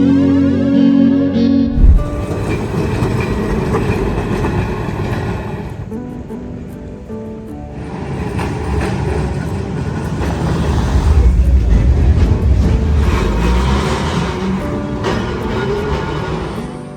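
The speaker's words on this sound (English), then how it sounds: "Riding the old tram was surely fun." An old tram rumbles steadily through Milan, with broadband rolling and clattering noise and a loud low hum. The sound swells and dips as the tram moves, and a short tonal passage is heard at the very start.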